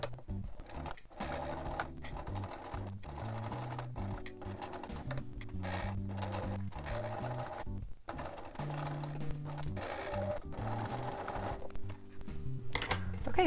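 A sewing machine stitches in the ditch along a red bound edge on a cosplay piece, running in steady close bursts of rapid needle clatter with short pauses, while background music plays.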